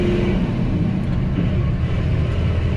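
A truck with a six-speed transmission and a 24-valve Cummins diesel engine, fitted with DEF, runs steadily close by at a parking lot job site, giving a continuous low rumble throughout.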